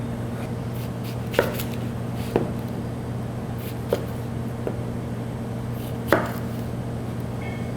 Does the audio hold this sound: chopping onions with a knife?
yes